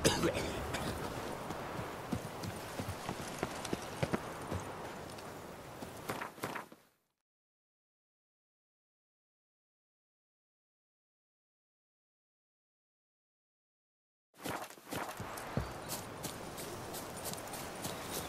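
Hooves of the horse Roach clip-clop steadily at a walk in a video game, a few seconds of rhythmic hoofbeats, then a long stretch of total silence before the clopping resumes.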